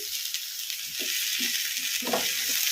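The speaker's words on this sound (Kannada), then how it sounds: "ಬದನೆಕಾಯಿನ ಈ ಥರ ಕಲಿಸ್ಕೊಂತ ಒಂದು ಎರಡು ನಿಮಿಷ ಫ್ರೈ ಮಾಡ್ಕೊಂಬಿಡೋಣ ಹೈ ಫ್ಲೇಮಲ್ಲಿ" Eggplant pieces fry and are stirred in a pan over a high flame, making a steady, close, loud sizzle with soft scraping strokes of the spoon beneath it and no talking.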